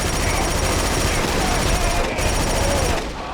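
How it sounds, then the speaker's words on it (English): Loud, dense video-game combat from Killzone 2: rapid automatic gunfire and rocket-launcher blasts pile up close and nearly continuous, then thin out in the final moment. "guys are launching rocket launchers and everything"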